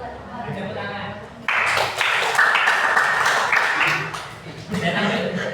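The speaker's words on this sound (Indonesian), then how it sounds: "Tepuk tangan." Applause from an audience after a group's presentation in a teaching-skills practical exam, broadband clapping swelling for about three seconds amid the room before settling back to quieter murmur.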